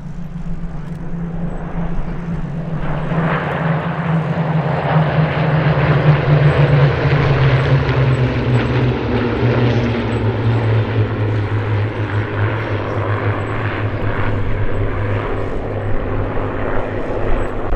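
Loud, sustained roar of nine Spitfire engines passing overhead in formation at an airshow, swelling and shifting in pitch as the planes sweep by together.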